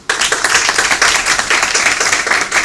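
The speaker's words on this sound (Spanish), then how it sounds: "Le brindamos fuertes aplausos." A conference audience breaks into loud applause, a dense, steady clapping that starts abruptly and holds for a few seconds without any voices.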